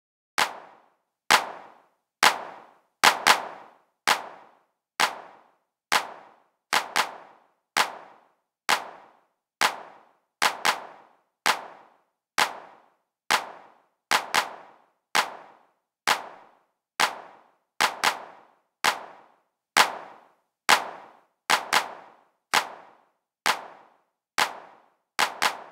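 Roland 909 clap samples run through Ableton Saturator's analog clip, sounding as a long, regular series of sharp, dry clap hits, each with a short tail, evenly spaced and loud.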